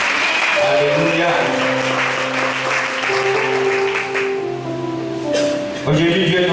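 Church congregation applauding during a worship service, steady clapping sustained throughout alongside music and singing.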